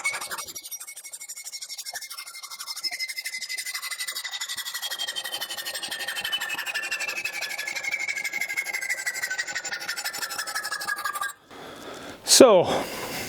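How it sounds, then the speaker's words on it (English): A high, sustained metallic screech from a cutting tool grinds through metal while building an exhaust manifold for a Mk2 Jaguar, steady and close, ending in a sharp squeal and a clatter. "Sorry for the screeching for those who've got sensitive ears."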